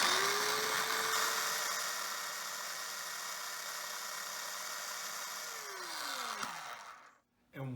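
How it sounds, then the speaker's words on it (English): A small kitchen food processor pulses cucumbers into a pulp, its motor whining loud and steady for several seconds, then spinning down and cutting off near the end. "we have a trusty little food processor here. So we're just going to pulse these into a pulp."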